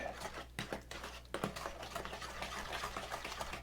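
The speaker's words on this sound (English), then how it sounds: "what I'm going to do now is just mix all those wet ingredients together" A spoon stirring wet ingredients for apple fritter soda bread in a bowl, giving quiet, quick, irregular clicks and wet scraping sounds that continue steadily and close by, with no talk.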